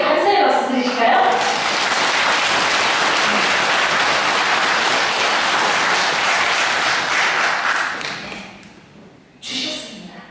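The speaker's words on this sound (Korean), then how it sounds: "하나님께 크게 감사의 박수 드리실까요?" A church congregation bursts into loud, sustained applause that fills the room for several seconds, then fades out before a voice speaks briefly.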